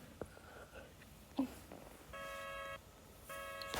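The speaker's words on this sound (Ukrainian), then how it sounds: "О, хтось до мене дзвонить." A phone rings in the Roblox Brookhaven game, two bursts of an electronic ring tone separated by a short pause, preceded by a few faint clicks and taps, fairly quiet.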